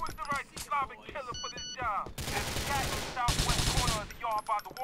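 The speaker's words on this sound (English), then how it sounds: "construction site workers shooting at me?" Construction site workers firing guns in Grand Theft Auto IV, a dense rapid burst of automatic gunfire mixed with scattered single shots, loud and close, while voices shout over the action.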